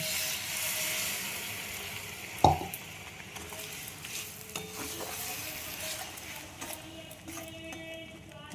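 Masala for a fish curry sizzles and fries in a pan while being stirred, with a loud clatter of the spoon early on, then continuous frying hiss and scraping.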